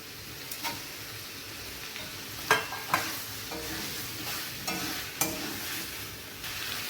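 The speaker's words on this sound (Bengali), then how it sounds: "মাছগুলো আলু টমেটোর সঙ্গে ভালোভাবে মিশিয়ে নিয়েছি।" Fish are stirred into a pot of boiled potatoes and tomatoes for a curry, the spoon making a few soft scrapes and knocks against the pot over a low background sizzle.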